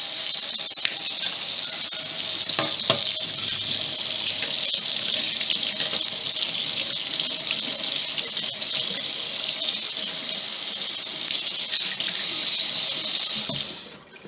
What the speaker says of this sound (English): I'm going to rinse this and see how it did.